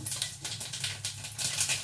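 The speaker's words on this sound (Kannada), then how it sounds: "ಸಾಸಿವೆ ಜೀರಿಗೆನ ಹಾಕ್ಕೊಳ್ತಾ ಇದ್ದೀನಿ" Mustard seeds and cumin pop and crackle in hot oil, tempering for a dodda patre tambuli; a steady, close patter of tiny bursts runs throughout with no one speaking.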